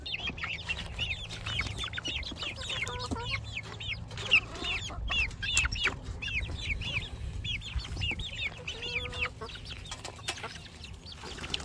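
A broody hen with her chicks, Barred Rock chickens and miniature roosters cluck and peep continuously at close range, with short higher calls scattered throughout, over a low ambient rumble.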